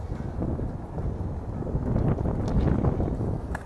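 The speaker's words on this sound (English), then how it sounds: "The wind is not painful, but it's cold." Cold wind blows outdoors at Flushing Meadows–Corona Park in New York City, buffeting the microphone with a continuous low roar that swells slightly toward the end, loud and close, with no speech.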